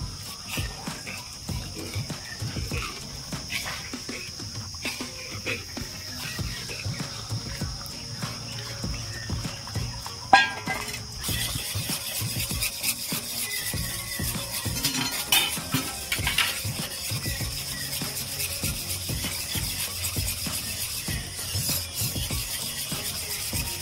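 Spoon scraping and stirring in a pan as cornflour slurry is added little by little to thickened milk for mango pudding; steady soft scraping with a faint hiss and a few clinks, continuing for a long stretch.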